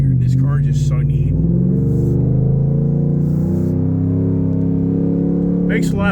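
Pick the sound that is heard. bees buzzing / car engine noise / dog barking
car engine noise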